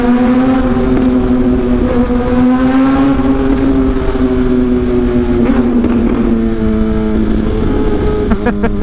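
A car drives through a tunnel with a loud, echoing engine drone whose pitch slides gradually, and a few sharp exhaust pops and crackles burst out near the end.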